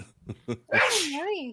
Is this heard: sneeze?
yes